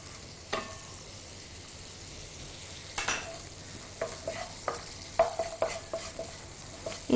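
Finely chopped garlic being stirred in a pan as the base of a white sauce, with a faint steady sizzle under a series of light scrapes and clinks of a utensil that grow busier toward the end.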